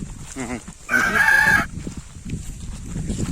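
At a poultry shop, a rooster crows loudly once amid clucking hens and scattered chatter, the crow long and close, other birds fussing before and after.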